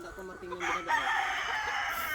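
A hen clucks and calls in a short burst, fairly close, on a farm, with faint background noise and no talking.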